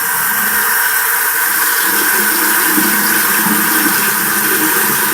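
Water splashing and running steadily as a face is rinsed during a night skincare routine for dry skin, a close, continuous broadband wash of sound with no pauses.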